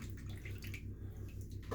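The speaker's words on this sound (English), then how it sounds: "So let's add a little bit of water," A little water trickles into shaving soap lather, a soft close splash and dribble over a low steady hum, with no speech.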